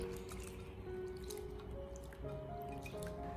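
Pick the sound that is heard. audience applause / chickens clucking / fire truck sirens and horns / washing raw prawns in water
washing raw prawns in water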